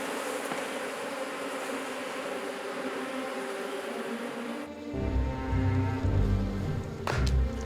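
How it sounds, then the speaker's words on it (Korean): Bees swarm and buzz around a honeycomb full of larvae and ripe honey while an Asiatic black bear raids it: a dense, steady drone, then heavy low rumbling and thumping from the bear beneath the continuing buzz. "벌들이 아무리 발버둥쳐도 속수무책입니다."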